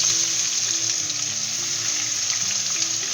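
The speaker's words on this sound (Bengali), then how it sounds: "এই মাছ ভাজা তেলের মধ্যেই আমি বড় দুখানা পেঁয়াজ কুচি করে" Chopped onions frying in oil left over from frying fish: a loud, steady, close sizzle with a faint low hum beneath, continuous throughout and without talk.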